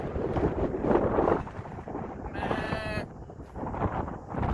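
A single short sheep bleat wavers briefly amid steady wind noise buffeting the microphone, with no other clear sounds nearby.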